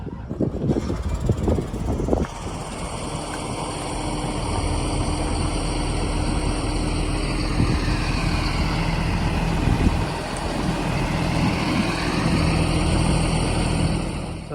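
A farm vehicle with a newly fitted deflector sets off for the field during sugar beet season, its heavy diesel engine running steadily and loud, close by, with a rumbling drone throughout.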